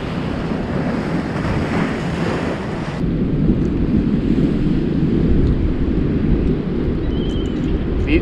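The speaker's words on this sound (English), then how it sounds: "You can relax, enjoy the sound of the water, sound of the ocean" Ocean waves washing over shoreline rocks at a fishing spot, a continuous broad roar of surf and wind, loud and close throughout with no voices.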